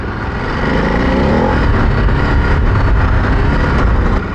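A 2024 Ducati Desert X adventure motorcycle rides on rally training ground, its engine a loud, rough continuous roar close up with broadband wind and rumble and no talk.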